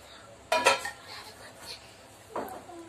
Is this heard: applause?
no